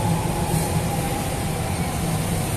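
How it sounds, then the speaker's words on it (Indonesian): A Jakarta MRT train rolls past in a busy city district, a steady loud rumble with low hum and rail noise lasting throughout, no voices on top. "Oh, ada MRT tuh."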